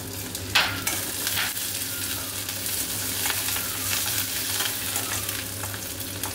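Curry leaves crackle and sizzle in hot oil tempering with cumin and mustard seeds, a loud continuous close hiss with a few sharper pops near the start.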